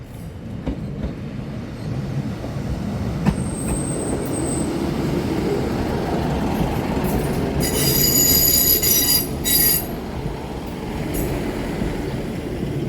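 A passenger train pulls into a Cornish branch-line station near Looe, its wheels letting out sustained high metallic squeals over a steady rumble of wagons rolling along the platform, loud and close throughout.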